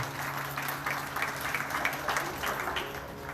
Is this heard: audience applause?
yes